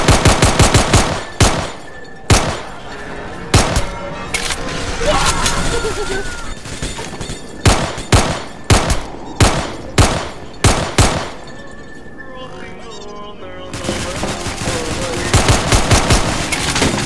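Gunfire in the Roblox game Evade: loud, sharp individual shots in irregular bursts, some rapid strings of several shots, separated by quieter gaps with a low background hum and brief voices.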